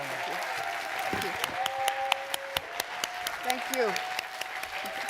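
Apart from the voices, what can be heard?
audience applause for a speaker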